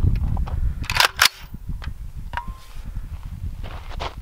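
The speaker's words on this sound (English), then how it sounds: "Here we go with the AR-15." An AR-15 rifle fires green-tip steel-core rounds at an AR500 steel armor plate outdoors: two sharp, loud cracks close together, then a brief metallic ring from the struck plate over rustling background noise.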